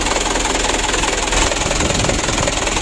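A truck engine runs with the cab tilted up, its oil crusted like jelly, giving a steady, close, loud mechanical clatter with a rapid knocking pulse and no voices.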